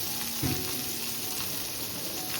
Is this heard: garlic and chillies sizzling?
yes